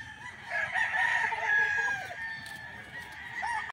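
A pure Sweater broodcock rooster crows in long, loud calls close by, its cock-a-doodle-doo ringing out over steady background clucking and farmyard noise.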